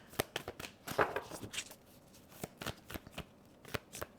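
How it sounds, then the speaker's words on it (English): Tarot cards are shuffled by hand in a messy, uneven rhythm, with quick, close papery riffles and slaps and short pauses between bursts, quiet and with no talking. "Sometimes it was just a messy shuffle."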